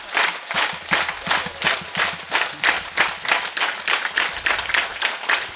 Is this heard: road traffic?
no